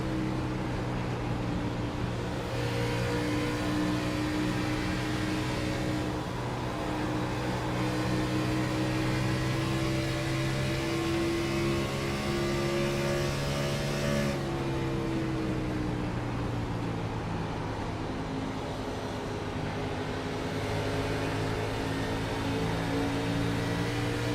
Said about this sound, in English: Take a ride on board with the number 87 for a lap and see how it is.